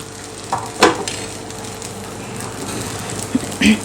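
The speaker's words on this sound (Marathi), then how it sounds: "मिडियम गॅसवरती खरपूस आपल्याला ही आंबोळी भाजून घ्यायची आहे" Jowar flour amboli cooks on a pan over a medium gas flame with a steady soft sizzle, broken by a few sharper scraping taps of a spoon on the pan.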